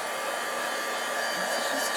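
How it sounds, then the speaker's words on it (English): A craft heat tool blows with a constant, loud, airy whir, drying a crafting project. The rushing hiss holds steady without pause and has no speech over it. "I'll just give this a little dry with the dryer, the tool,"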